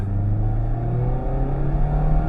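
A 2024 Mazda MX-5 RF GT RS roadster accelerates with a steady, close engine drone whose pitch climbs smoothly, a loud sustained rumble heard without any voices.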